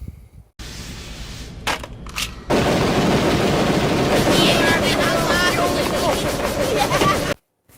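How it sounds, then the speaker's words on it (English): Rapid pistol gunshots from a scene in the Kirby cartoon crackle in a loud, dense burst over several seconds, with a few sharp cracks and music before the volley and a sudden cutoff at the end. "pulls out a freaking pistol and starts shooting like a gangbanger"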